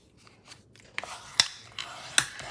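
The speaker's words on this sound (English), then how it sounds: "fold the card bases because this is all dry" Dry card bases being folded by hand, giving a few crisp creasing crackles and two sharp papery snaps against a quiet background.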